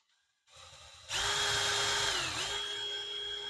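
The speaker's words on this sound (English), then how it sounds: "Re-drilling my holes on my marks." A power drill spins up and bores into wood while re-drilling holes for a sliding barn door in a 100+ year old house, a brief ramp then a steady loud whine that dips slightly as it bites.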